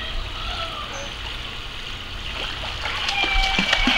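A young girl swims and splashes in water, with steady watery wash and a few sharper splashes near the end.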